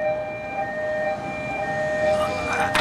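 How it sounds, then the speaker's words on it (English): A wailing ambulance siren in a video game sounds steadily over low background noise. "You hear that ambulance?"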